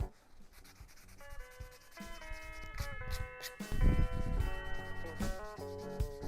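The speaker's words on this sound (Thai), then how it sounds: "ตอนนี้เราแค่ต้องหากระดาษทรายมาขัดด้านบนให้เรียบๆให้เนียนๆแล้วก็ขัดขอบให้มันกลมๆ" Sandpaper rubbing steadily over a small handmade wooden fingerboard, a continuous scratchy hiss of back-and-forth strokes that is close and moderately loud, with tonal music playing underneath.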